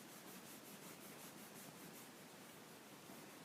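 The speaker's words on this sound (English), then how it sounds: "I'm fairly aggressive in rubbing" Steady, continuous rubbing of conditioner into oil-tanned leather, an even broadband hiss with a faint repeating stroke rhythm, close and consistent throughout with no pauses or talking.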